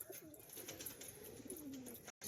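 Soft pigeon cooing with a few warbling calls over a hissy, fairly quiet background, no talking.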